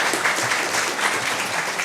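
Audience applause at a live panel session on pronouns and compelled speech, a dense, steady clapping from a sizeable crowd lasting the full two seconds without any speech.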